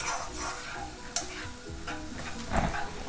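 Prawn masala stirred and frying in a pan on a high flame, with a steady sizzle, scraping strokes and a few sharp clinks of the utensil against the pan, no talking.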